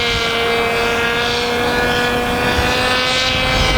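A small FPV fixed-wing autonomous UAV flies with its propeller motor at about half throttle, giving a steady, continuous loud drone with a constant whine throughout.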